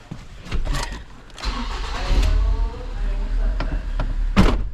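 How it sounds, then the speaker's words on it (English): A recovery truck engine runs as the truck drives forward a little, a steady low rumble building through the clip, with brief knocks and clunks along the way. "If I drive forward a bit"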